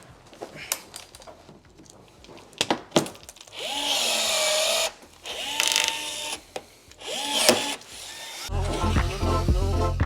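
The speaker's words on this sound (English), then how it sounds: "So we'll just drill the hole in there, just like that." A power drill whirs in several short bursts drilling rivet holes in a BMW M2's carbon fibre parts, revving up and down between sharp clicks and taps, close by.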